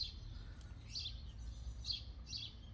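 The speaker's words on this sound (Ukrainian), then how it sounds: "пташки співають, іволги" Several short, bright calls of orioles ring out at intervals in the morning over a low outdoor hum, moderately distant and fairly faint, with no voices.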